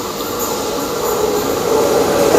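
A Howrah to Haldia local train runs along the line, a loud, continuous rumble of wheels and carriage noise heard from on board, steady throughout and slightly building toward the end.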